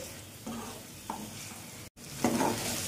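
Tomato masala for potato curry sizzles in a pan while a spoon stirs it in short scraping strokes, close and fairly quiet, with no talk.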